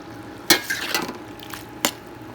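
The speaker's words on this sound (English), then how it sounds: "Now I just stir it all up." A spatula clatters and scrapes against a wok while chicken and zucchini stir-fry in a little bouillon stock: a few sharp metallic knocks over a soft, steady sizzle, close and moderately loud.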